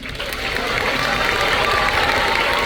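Sustained applause from an audience at a live final-episode event, dense and continuous throughout with a crowd murmur mixed in.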